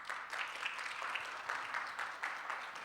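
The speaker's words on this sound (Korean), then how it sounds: "박수로 모십니다." A congregation at a Korean church youth service applauds to welcome a performer forward for a drama, a soft, distant, even patter of clapping with a loose rhythmic swell.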